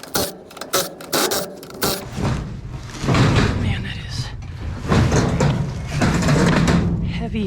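A heavy steel door being dragged and shifted while scrapping old door frames, giving sustained grinding, scraping and clanking at close range, with a few sharp knocks early on and someone talking over it.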